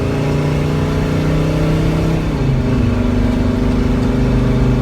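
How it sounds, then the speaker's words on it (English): A Mercedes Sprinter van engine with the muffler cut off, turbo under boost, accelerating hard: a loud, raw, continuous drone whose pitch steps and climbs partway through, close and without talk. "once the exhausts start pumping, this thing really accelerates."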